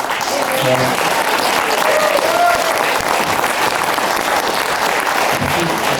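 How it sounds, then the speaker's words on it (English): Loud, sustained applause from a theatre audience at an award ceremony fills the clip, steady and close, with a few voices faintly audible through the clapping. "I think we should all give her a round of applause"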